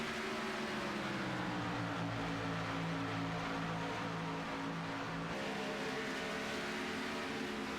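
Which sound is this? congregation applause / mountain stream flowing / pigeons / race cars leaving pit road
race cars leaving pit road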